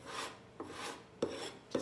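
A putty knife scrapes and rasps across painted furniture, blending and distressing re-wetted paint in four short, close strokes.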